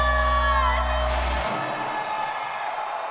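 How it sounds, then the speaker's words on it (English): A live concert crowd cheers and whoops loudly after the band's final chord cuts off, a dense roar of voices filling the space and holding steady to the end. "You can hear the crowd"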